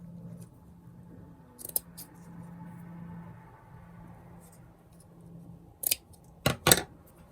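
Small scissors snip a piece of decorative trim at a journaling desk, a few sharp, close cuts scattered between quiet handling noises, the last ones in a quick cluster.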